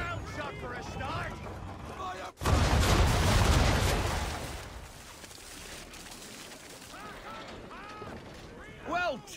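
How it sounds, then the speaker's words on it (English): Ship's cannons fire a broadside during naval combat in Assassin's Creed III Remastered, a loud sudden broadband blast that rumbles and fades over about two seconds, with voices talking before and after. "Bring around broadside, and when all guns are on target, call fire."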